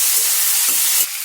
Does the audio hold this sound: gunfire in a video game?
no